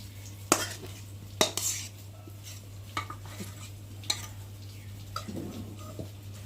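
A cooking pot of fish curry is lifted off the stove, giving a few sharp metallic clanks and scrapes of the pot and utensils over a low steady hum in a home kitchen.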